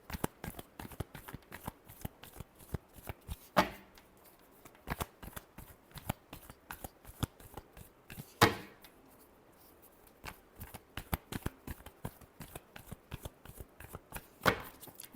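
Tarot cards are shuffled close up in quick, repeated crisp riffles and taps, with a few louder bridge-like snaps standing out from the steady rhythm.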